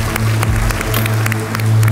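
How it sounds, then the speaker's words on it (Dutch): Brief audience applause at an accountants' conference as panel members are introduced: a dense, steady patter of many hands clapping, fairly loud, with no talking. "Maar dan moet u ze wel een applaus geven."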